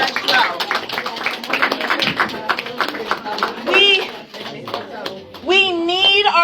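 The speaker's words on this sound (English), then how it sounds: "So let's give a round of applause for everybody who came on March 12th." Scattered applause and clapping from a union meeting crowd, a modest round of hand claps mixed with overlapping voices and chatter, fading as a speaker's voice rises above it.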